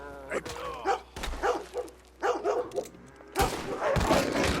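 A dog in the video game Red Dead Redemption 2 barks repeatedly in short loud bursts, some yipping, close by and followed by a denser rush of game noise at the end.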